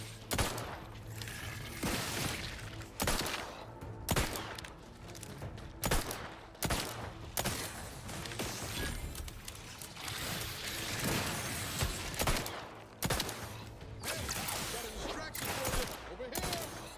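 Weapon reloading in the video game The Outer Worlds 2, a loud, dense stretch of gunfire bursts and mechanical clicks and clacks from handling the gun, with a voice talking.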